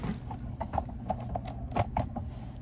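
A single-needle embroidery machine starts stitching heat transfer vinyl appliqué onto a hoodie, giving irregular mechanical clicks and creaks over a low steady hum, with no talking.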